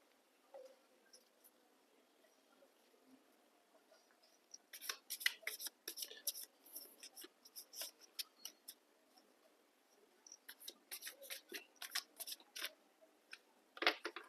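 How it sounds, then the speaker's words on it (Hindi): Tarot cards being shuffled by hand, quiet crisp riffling and flicking in two clusters of rapid snaps, close and faint. "एक बार शफल करते हैं कार्ड्स को।"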